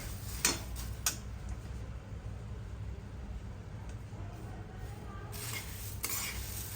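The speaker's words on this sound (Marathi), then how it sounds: "आपण असंच थोडं थोडं तेल घेऊन त्यात हळद टाकून मुरमुरे परतून घेणार आहोत।" Puffed rice with turmeric stirs and roasts in a little oil for murmura chiwda, a quiet, faint rustling sizzle broken by a few sharp ticks of a spoon against the pan, without speech.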